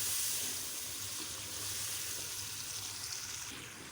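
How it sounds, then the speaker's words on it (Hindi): Turmeric and red chili powder frying with chicken in a pan for methi chicken, a steady broadband hiss and sizzle that holds fairly even for the whole stretch, with no voices. "अब इन मसालों को हम अच्छी तरह"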